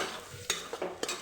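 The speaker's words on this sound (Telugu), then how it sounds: "ఇప్పుడైతే క్యాప్సికమ్ వేసేస్తున్నాను ఫ్రెండ్స్. టమాటాలు వేసేస్తున్నాను. ఒకసారి అయితే కలిపేసుకుందాం." A spoon scrapes and stirs chopped capsicum and tomatoes in a frying pan for a capsicum potato curry, with three or four quick, close strokes over a low sizzle.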